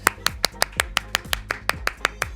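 Repeated sharp hand claps, about a dozen in quick, even succession, close and loud with a short tail after each one, during a podcast recording.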